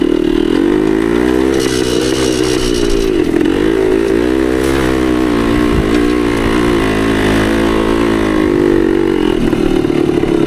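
A 1972 Yamaha DT2 enduro motorcycle engine held in second gear, a loud, steady close-up drone with slight rises and dips in revs running unbroken throughout.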